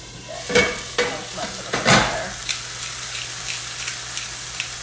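Pan of food frying in olive oil seasoned with salt and pepper, sizzling and splattering with several sharp stirring scrapes early on, then a softer steady crackle, close and clear.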